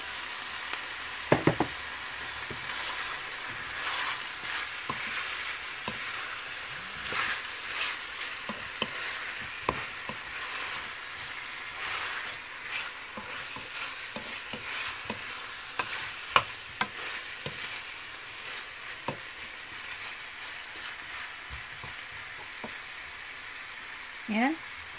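Pork and chicken wings fry together in a pan for adobo, giving a low, steady sizzle broken by frequent sharp clacks and knocks of a utensil stirring and scraping the pan.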